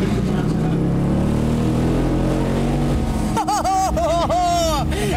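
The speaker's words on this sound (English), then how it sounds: "start line in a car with an engine and some noise" A car engine at the Goodwood start line revs loudly and steadily at first, then drops away as a voice rises over it with cheering and laughter.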